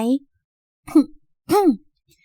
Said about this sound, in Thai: เธอกระแอมออกมาเล็กน้อย